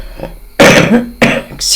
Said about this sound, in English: I'm sorry I'm coughing.